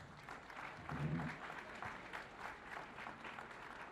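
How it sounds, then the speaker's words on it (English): An audience at a Black History Month celebration in Durham gives a round of applause, quiet and somewhat distant, swelling briefly early on and then settling into a steady patter with some voices beneath. "How about giving them a round of applause?"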